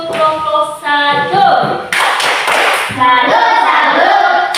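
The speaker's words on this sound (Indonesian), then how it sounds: "Tepuk salut untuk kelompok 1." A classroom group salute clap for the first presenting group, with claps and thumps mixed in among children's chanting voices, loud and close, with a burst of noisy clapping near the middle.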